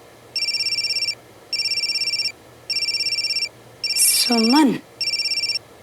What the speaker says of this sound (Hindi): बस अभी उन्हें फोन कर रही हूँ।